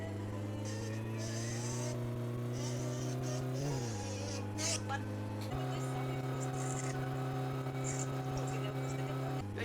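A Satsuma car drives over a rough, off-road track, its engine a steady buzzing drone that shifts pitch a couple of times, with people talking over it.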